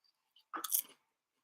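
A crunchy cracker bitten and chewed close up, one brief crisp crunch burst in an otherwise quiet moment.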